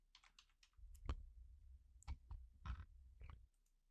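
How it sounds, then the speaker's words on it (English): Several quick, sharp keystrokes on a computer keyboard while entering a word in a web page builder, crisp clicks in small irregular bursts, close and quiet with no talk. "let's type in the word that we need"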